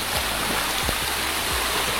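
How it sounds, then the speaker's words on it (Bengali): Heavy rain pours down at a sea beach near Kolkata, a dense, steady roaring hiss filling the whole moment at close range, with no voices. "এখানে কিন্তু মুষলধারে বৃষ্টি হচ্ছে"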